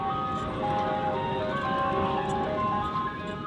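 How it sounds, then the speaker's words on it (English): A food truck's tinkling jingle plays continuously at a Bahrain beach at sunset, mid-distance, over a busy outdoor hum of people and idling engines. "they even have a nice green truck with the song and everything"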